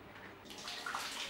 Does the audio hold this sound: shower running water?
yes